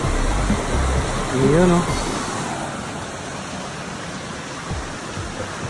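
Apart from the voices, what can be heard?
strong river current flowing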